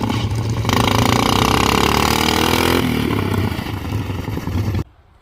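A lawn mower dragster's small engine revs up, holding a high whine, then drops in pitch with a clean gear shift before cutting off abruptly near the end.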